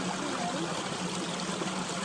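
Stream water flows steadily along a hiking trail toward a waterfall, a continuous soft rushing and trickling wash with no voices over it.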